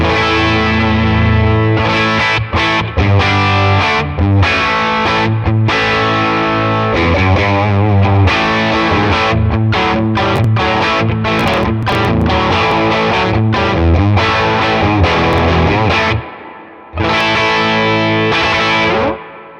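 Electric guitar on the bridge humbucker through a Tone King Imperial neural amp plugin with no pre-effects plays a gritty, chewy overdriven riff of chords and single notes, loud and close, with a short pause near the end.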